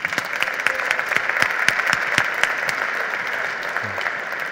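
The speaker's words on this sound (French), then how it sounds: "Donc on peut encore l'applaudir." Audience applause at a DS Automobiles live event at the Louvre Pyramid, a steady crowd of many hands clapping at moderate volume from start to finish.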